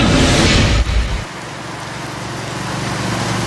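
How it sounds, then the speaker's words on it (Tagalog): Heavy rain in Surigao City during a storm, a loud broadband wash that drops abruptly after about a second into a steadier, lower rush with a faint rumble underneath. "Maghapong malakas ang ulan sa Surigao City"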